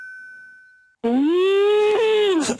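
Someone imitates a polar bear with one long, loud, sustained wailing moan held close to the mic, ending in a short rough break, after a moment of near silence with a faint electronic tone.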